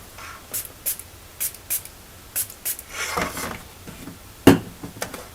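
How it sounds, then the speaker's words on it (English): A spray bottle mists water onto paper during an acrylic painting demo in a quick series of about seven short, close hisses, followed by one sharper, louder spritz near the end. "Let's grab a spray bottle,"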